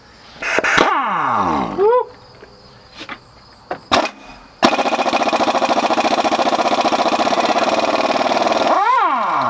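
An air impact wrench running at about 100 psi removes a bolt while a 5.3 LS engine is pulled from an H3 Hummer. A few clanks and short whirs come first, then a loud, sustained buzzing hammer-rattle that drops off with a final whir.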